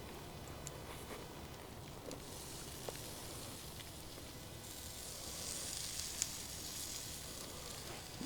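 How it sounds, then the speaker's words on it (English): Steak pinwheels sizzle on a grill over an open fire, a steady soft crackling hiss throughout with occasional small pops, moderately quiet and close, no talking. "we're gonna throw each pinwheel back on the grill"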